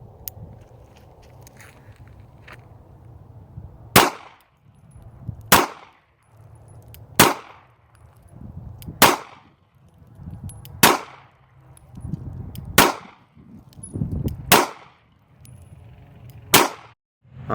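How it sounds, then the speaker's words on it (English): Eight sharp pistol shots from a Taurus PT908 fitted with a cut-down Beretta 92 recoil spring ring out at an outdoor range, each a loud crack spaced roughly every one to two seconds over a low background rumble. "this is what those 8 shots looked like coming out of the Taurus PT908 with the cut up recoil spring from the Beretta 92"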